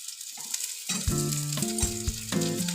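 Potato pieces fry in hot oil in a pan for a cauliflower-stalk chorchori, giving a bright, continuous crackling sizzle that jumps up as they go in, with faint stirring scrapes.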